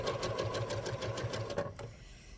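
A sewing machine stitches a quilt top in a steady, rapid run of needle strokes, then stops abruptly near the end, leaving a quiet room tone.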